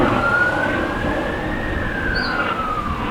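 An emergency vehicle siren wails outdoors at a distance, one slow rising and falling tone over a steady low rumble of traffic, with no talking.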